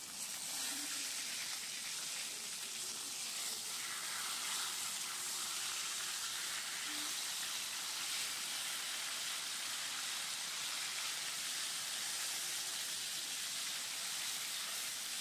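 Rohu fish fries in a pan with a steady, even hiss of sizzling oil that continues unbroken and fairly quiet throughout.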